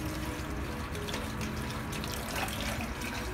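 Tap water runs steadily into a kitchen sink as sweet potato tops are rinsed, a continuous close splashing wash with no talk over it.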